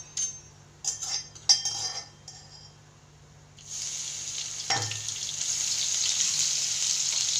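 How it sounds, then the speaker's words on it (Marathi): Garlic tossed into hot oil already popping with mustard seeds while making tomato chutney, starting with a few clinks of a utensil and then a steady, close hiss of frying that builds and holds to the end, with no talking. "हे लसूण आपण तेलामध्ये छान परतून घेऊ"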